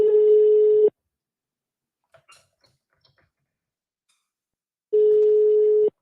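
A phone call rings through to voicemail: a loud, steady telephone tone sounds for about a second, near-silence follows with a few faint clicks, then the same tone returns.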